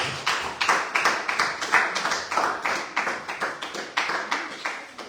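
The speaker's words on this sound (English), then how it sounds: "Please let's give him a round of applause." Audience applause at a legislative internship reflection session, a fairly small group clapping in loose, repeated rhythmic surges that rise and fall at a steady pace, close and moderately loud.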